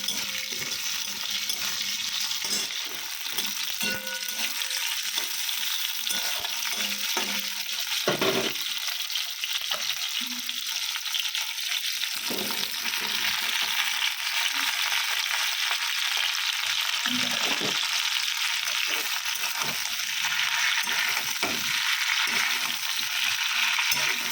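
Broccoli, capsicum and tomato fry in a pan, giving a steady, close, continuous sizzle with occasional stirring scrapes and no voices.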